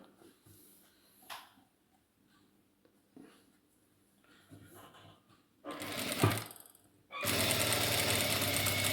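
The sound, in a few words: sewing machine stitching a sari blouse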